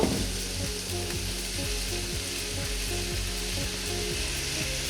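Steady close sizzling of soy sauce hitting a hot frying pan with noodles, with regular scraping strokes roughly twice a second.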